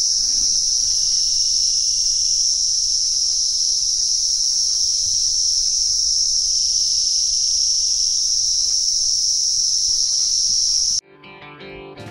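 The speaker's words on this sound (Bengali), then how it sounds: "ঝিঝি পোকার আওয়াজটা জাস্ট শোনো।" A steady, piercing high-pitched cricket drone fills the air continuously near a wooded monastery in Lava, Kalimpong, loud and unbroken, before cutting off abruptly near the end.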